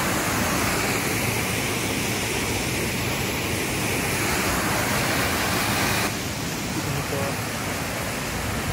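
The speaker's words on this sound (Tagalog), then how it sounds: "Dito nanggagaling yung tubig sa falls." A loud, steady roar of falling water at Mayang Falls, Trece Martires, fills the scene without a break, broad and close, drowning out everything else.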